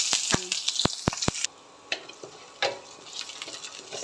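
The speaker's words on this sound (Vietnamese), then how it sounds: "Cho vô một muỗng canh dầu, một điều. Cho vô ít hành." Onions dropped into a spoonful of hot oil in a pan for a vegan jackfruit curry, giving a few sharp clatters and then a steady close sizzle with soft bursts.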